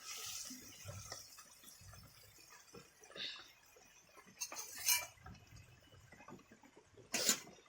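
Milk hilsa curry being stirred in a pot, with soft scraping and clinking of a utensil against the metal, light watery sloshing and a few sharper clanks near the end, quiet and close.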